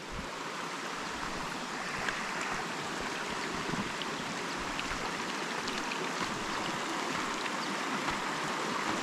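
Water rushes along a rocky jungle stream near Thankowain waterfall in Alikadam, a continuous broad gurgling roar that stays steady and fairly close, with no speech.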